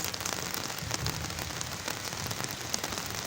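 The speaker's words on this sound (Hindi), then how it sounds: "बहुत तेज़ बारिश आ रही है" Heavy, steady downpour on a rooftop, a dense unbroken hiss of rain falling close by and loud throughout with no talking.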